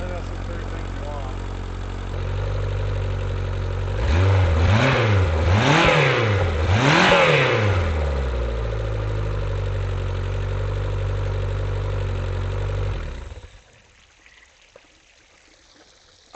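An outboard motor on a pontoon boat being converted to a tritoon runs steadily nearby, revving up and down in a few surges before settling to an idle, then cutting off abruptly, leaving near silence.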